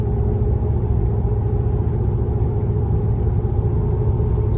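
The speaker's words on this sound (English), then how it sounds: "let's get a decibel reading and we can see what the road noise is on these mud terrains" Toyo Open Country mud terrain tires on a 2019 Ram Rebel produce a steady, loud low droning road rumble heard from inside the cabin while cruising, unchanging throughout.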